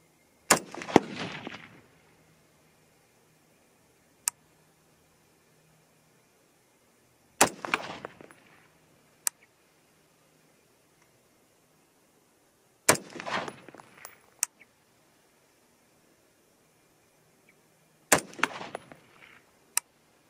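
Five sharp rifle shots fired at a target on a range, spaced several seconds apart, each a loud crack with a short echoing tail against near silence.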